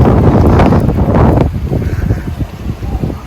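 Strong gusts of wind buffet the microphone close up, roaring at first then breaking into rougher, choppy bursts.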